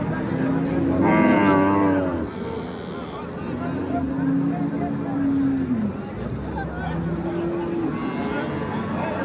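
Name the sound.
cow mooing at livestock market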